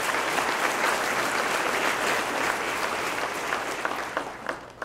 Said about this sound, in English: let's give Rebecca and her husband Tommy a big round of applause